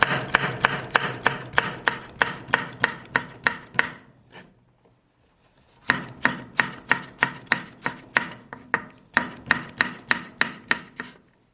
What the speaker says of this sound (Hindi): तो ये 2 अदद हमने हरी मिर्चें ली हैं, इसको भी बारीक बारीक काट लेते हैं।